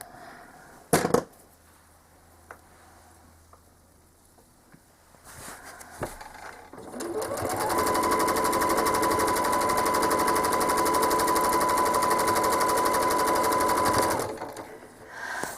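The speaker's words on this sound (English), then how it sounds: "So I stitch from corner to corner." Home sewing machine stitching a quilt, a few faint clicks and thuds at first, then a loud rapid mechanical chatter running steadily for about seven seconds before stopping, close by and without talk.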